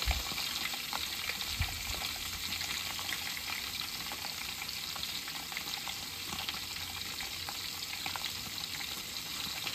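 Eggs fry in a few tablespoons of olive oil for a Southeast Asian omelette, giving a steady, dense crackling sizzle that stays even and close throughout, with no talking.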